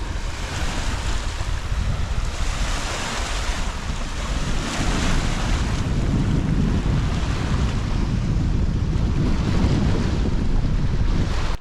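Surf breaking steadily on an Alaska beach with strong wind buffeting the microphone, a continuous loud roar with swelling waves and no voices.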